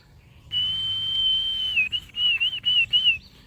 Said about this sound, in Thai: จะผิวปากเรียกดูว่าเขาจะมากันหรือเปล่า